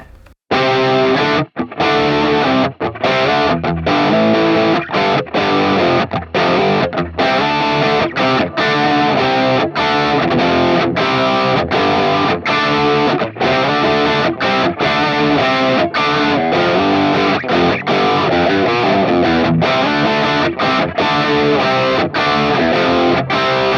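An electric guitar plays through the crunch 1 channel of a Hotone Ampero modeling a Marshall Silver Jubilee amp, crunchy and mildly distorted, with strummed chords and short pauses between phrases, loud and close.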